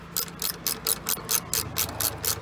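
A ratchet tightens a screw into plastic on a Chevy Aveo, making a close, rhythmic run of about ten clicking strokes, each a quick burst of pawl clicks, heard alone without talk.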